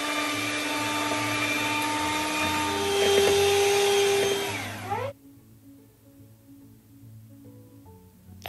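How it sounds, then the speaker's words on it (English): An electric mixer beats eggs for a caramel egg pudding, whirring loud and close for about five seconds before switching off to a quiet room with faint clatter. "we're going to be mixing it up with our mixer"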